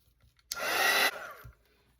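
A hair dryer bursts on for about half a second, roaring loud and close as it dries a watercolour painting, then drops to a softer whir and cuts off.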